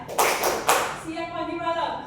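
A classroom of students claps in a call-and-response clapping game: two sharp, loud group claps in quick succession, followed by a voice speaking.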